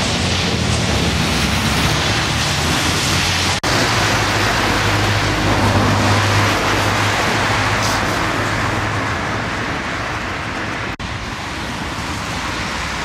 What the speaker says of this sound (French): Il pleut, et malgré les averses